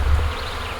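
Honeybees hum steadily at an opened hive during a spring honey super inspection, a close, continuous buzz with a low drone underneath and no voices.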